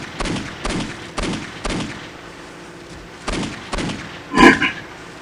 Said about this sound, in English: so I'm going to just pistol snipe.